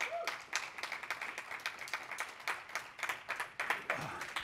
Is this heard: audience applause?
yes